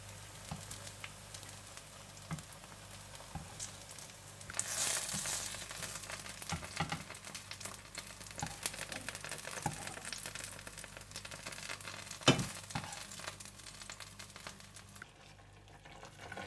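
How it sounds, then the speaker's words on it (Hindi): Eggplant (baingan) fries in a pan with a soft, continuous sizzle and scattered crackles and pops. The frying is quiet and close, with a brief louder hiss partway through and a sharp clink near the end. "ये बैंगन अच्छे से फ्राई हो चुके हैं और इन्हें अच्छा सा फ्राई कीजिएगा ताकि ये अच्छे से गल भी जाएं"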